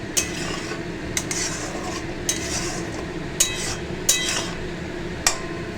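Spice masala fries in oil in a pan, a steady dense sizzle broken by about six sharp metallic scrapes of a spoon or ladle stirring at roughly one-second intervals, with no voices.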